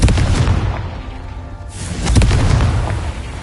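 A Confringo spell explosion in Hogwarts Legacy, a heavy booming blast that rolls out and swells again into a second deep rumble, loud and close with no talk.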